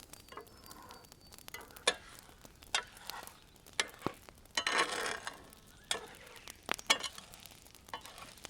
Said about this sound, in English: it'll start to sort of bubble up there, and that's when you can start stirring him up a bit